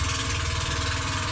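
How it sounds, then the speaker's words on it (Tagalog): Boat engine running on a single engine while its twin is broken, a steady low droning rumble with an even chugging pulse, close and constant throughout. "Nasira yung isang makina, kaya isang makina lang yung gumagana"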